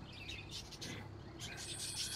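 Birds chirp and tweet in the Exotica: Pet Shop Simulator game, with bursts of soft, fairly faint calls over a steady background hum.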